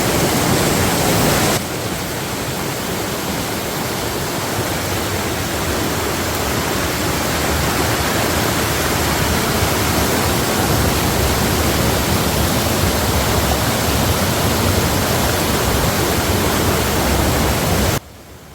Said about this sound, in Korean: 거침없는 물줄기가 시원하게 흘러갑니다